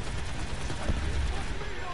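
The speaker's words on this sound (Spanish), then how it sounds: "La mayoría de organismos no sobrevivirían a esta" An explosion in the Call of Duty: Black Ops 4 video game sounds as a deep, rumbling burst near the middle of a continuous low roar. It is moderately loud, with no clear speech over it.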